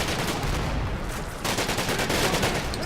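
Dense, continuous gunfire from assault rifles and grenades in the Combat Mission: Black Sea war game, a loud, unbroken crackle of overlapping shots with no pauses.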